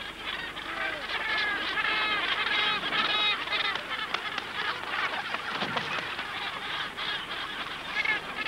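Dense, continuous honking and calling of a large gannet colony on an island nesting site, many overlapping harsh cries filling the whole stretch at steady loudness with no talk.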